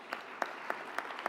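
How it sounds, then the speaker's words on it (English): An audience at a sustainable energy event gives a smattering of applause, a few sharp claps ringing out at regular intervals over a soft background of scattered clapping. "I would like you to give them a round of applause for that"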